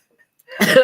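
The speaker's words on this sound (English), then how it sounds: "I'll be coughing for you here today." A single short, close cough erupting after brief silence, loud and rough with a throaty rasp.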